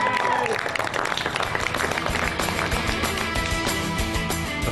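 Crowd at a Britain's Strongest Man strongman competition claps and cheers steadily throughout, a dense, loud wash of applause that continues without a break.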